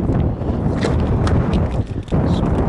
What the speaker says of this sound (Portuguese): Vento pra todo lado aqui, cara.